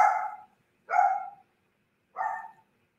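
A dog barks three times, close and clear, with short pauses between the barks and nothing else around them.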